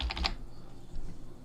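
Quick clicking keystrokes on a computer keyboard while searching in a music sample library, a short close burst of taps followed by a few quieter ones.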